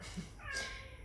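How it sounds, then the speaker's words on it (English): A house cat gives a single drawn-out meow at a door, faint and somewhat distant, against a quiet room. "it is causing my cat to meow at the door"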